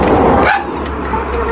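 A dog barks loudly nearby in a short burst with a yelping edge, over a busy, noisy outdoor background.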